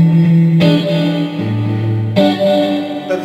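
Through a Marshall Code amp with a touch of reverb, an electric guitar rings out in distorted chords: a sustained chord, a lower one, then a fresh strike near the middle.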